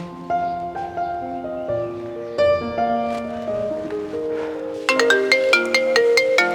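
A mobile phone ringtone plays a bright melodic tune, stepping through note after note, then swelling into louder ringing chimes in the final seconds.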